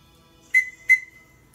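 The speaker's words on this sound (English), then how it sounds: "This is a little safety whistle." A small safety whistle gives two short, loud, shrill blasts in quick succession, each with a piercing steady tone, against near silence.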